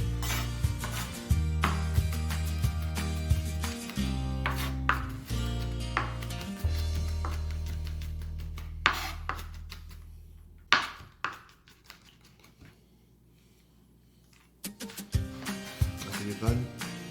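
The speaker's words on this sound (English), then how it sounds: "Always bring it together, guys, so it's easier for you to chop." A knife chops garlic on a cutting board, a steady rhythm of sharp close taps that thins to scattered knocks and a quiet pause before brisk chopping resumes, with background music and a voice at times.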